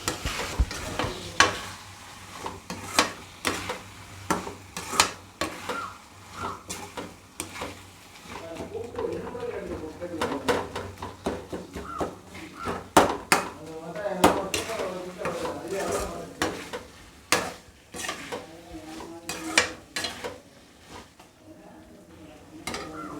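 Spice paste being sautéed with onion and tomato in a pan for mutton kulambu, with repeated scraping stirs, clinks of utensils against the pot and a low steady sizzle underneath, close and moderately loud throughout.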